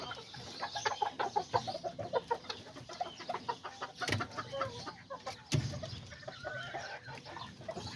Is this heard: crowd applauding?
no